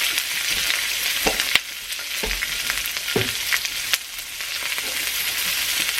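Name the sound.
vegetables stir-frying in a wok for pad thai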